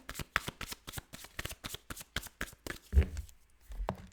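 Tarot cards shuffled by hand in a rapid run of crisp riffling flicks and slaps, a brief pause near the end before a few more snaps, close and alone.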